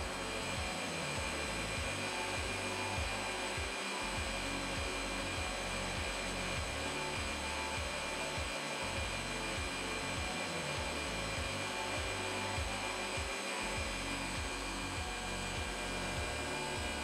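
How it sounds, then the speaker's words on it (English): A coffee maker brewing a cup while powered by an EcoFlow Delta 2 power station, giving a steady, faint whirring drone with low rhythmic gurgling pulses throughout, no voices. "I actually can't really hear the Delta 2 above the noise of the coffee maker."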